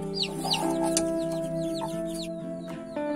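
A mother hen clucking among her newly hatched chicks, which give high, rapid peeping calls over her low, steady clucks, close and fairly quiet.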